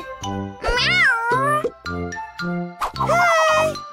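High, sliding kitten meows repeat several times close by, mixed with a voice and a faint tinkling jingle.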